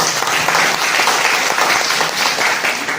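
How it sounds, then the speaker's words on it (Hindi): Dense, steady applause from students and audience at a college event, many hands clapping loudly and continuously. "मैं चाहूँगा कि आप लोग इनका तालियों से स्वागत करें"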